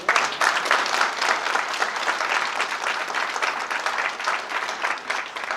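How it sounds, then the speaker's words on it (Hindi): A roomful of people claps steadily, a thick wash of applause that stays fairly even from start to finish. "बजना चाहिए शाहनवाज जी के लिए ताली"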